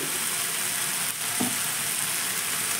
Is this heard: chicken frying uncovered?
yes